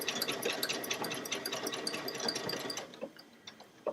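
A Baby Lock Solaris 2 embroidery sewing machine runs nearby with a fast, even mechanical whir and needle clatter, then slows and stops near the end.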